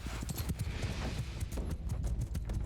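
Cavalry horse hooves in Mount & Blade II: Bannerlord battle, a dense, continuous clip-clop of many hooves galloping together, steady and close throughout with no talk over it.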